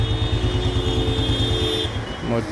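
Cars and motorbikes travel fast along the waterlogged Jalandhar–Chandigarh main highway at Khatkar Kalan village, producing a loud steady engine drone with a horn-like tone that drops away near the end.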